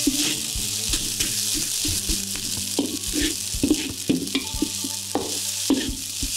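Rice stir-fried in a wok for nasi goreng kampung: rhythmic scraping and tossing strokes over a continuous sizzle, close up, with no talking.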